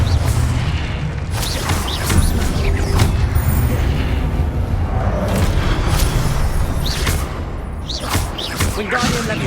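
Confringo blasting spells explode in Hogwarts Legacy: several sharp, bright bursts, each followed by a short crackling tail, over a steady low rumble of game ambience.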